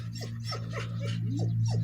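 A husky whimpers and yips in a run of short, rising cries, up close over a steady low engine hum, while a neighbour's dog barks outdoors in the snow.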